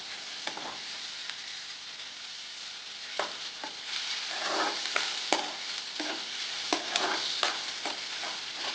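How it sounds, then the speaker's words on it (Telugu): Onions frying in a pan for a black chickpea curry, a soft continuous sizzle broken by intermittent scraping stirs, fairly quiet and close, with no talking. "ఇందులో ఆనియన్ వేస్తానండి. ఫ్రై చేద్దామండి."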